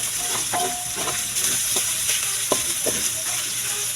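Tomato sauce, a 250-gram pack, poured into a hot frying pan, raising a loud, steady sizzle and hiss with a few spoon scrapes and clinks on top, close by and free of talk.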